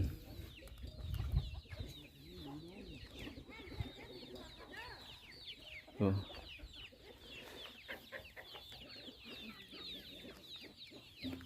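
Farm chickens cluck and chatter as they forage at dawn in a vegetable garden, several birds close by with uneven bursts of calls and a louder squawk midway.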